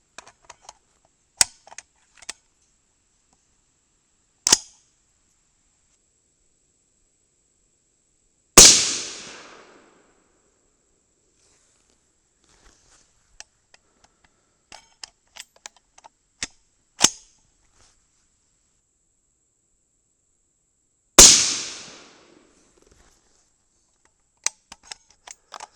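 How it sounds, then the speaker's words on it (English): 22 Nosler rifle fired single shot, two sharp loud reports with short decaying echoes about twelve seconds apart, mixed with fainter clicks and clacks of bolt and brass handling in an otherwise quiet setting. "I want to shoot these in single shot mode"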